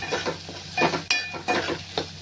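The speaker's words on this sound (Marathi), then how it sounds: "कश्मीरी मसाला, मटन मसाला, हे सगळे पावडर मसाले टाकून चांगला भाजायचा तो मसाला व्यवस्थित" Powdered spices, including turmeric, Kashmiri chili and mutton masala, fry in oil for a mutton curry with a bright continuous sizzle, broken by several scraping stirs of a spoon against the pan.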